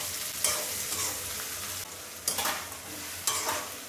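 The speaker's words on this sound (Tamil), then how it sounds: "கோஸு, குடமிளகா, இந்த ஊற வச்சு கொண்டைக்கடலை எல்லாத்தையும் போட்டுடுறேன். எல்லாம் போட்டு ஒரு வதங்கட்டும்." Cabbage, capsicum and soaked chickpeas sauté in a hot pan with a constant sizzle, broken by a few sharp scraping bursts as the spatula turns the vegetables, with no talking.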